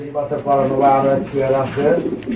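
Meghpai pigeons, a pair, coo close by in low, throaty, rolling calls that repeat without a break, with a voice faintly underneath.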